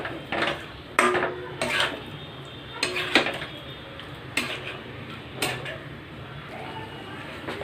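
A spoon scrapes and knocks against a pan while yogurt is stirred into masala for chicken korma, giving sharp irregular clinks close by against a low, steady background.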